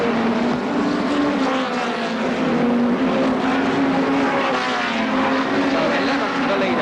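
Hot rod racing cars roar around the Brafield oval track in 1984, a steady, loud engine drone with a sustained low harmonic whine, continuous throughout with no clear breaks between passing cars.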